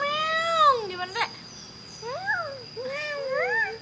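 A cat meows several times, drawn-out rising and falling calls in two bursts, close and fairly loud with no talking over them.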